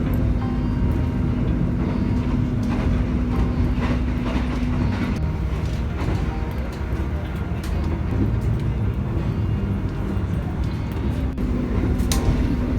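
A Jakarta–Yogyakarta passenger train rumbles steadily along the rails by day, with a continuous low roar, faint rhythmic clatter and a sustained tone throughout.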